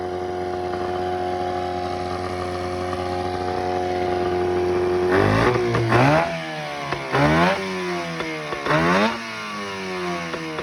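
Small outboard motor on flushing muffs idling steadily after a slow-speed needle adjustment, then revving up several times in sharp bursts that fall back each time, loud and close with no talking.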